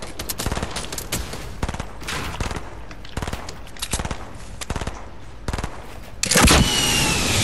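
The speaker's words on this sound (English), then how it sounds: "he's shooting at me" Rapid bursts of automatic gunfire in the Fortnite video game crackle close and loud throughout, with clustered shots and a louder blast near the end.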